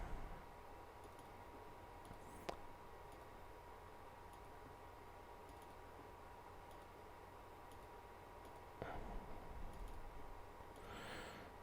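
Faint, quiet computer mouse clicks while working in the PI interface, a few soft isolated ticks spread out over low background hiss, with no talk.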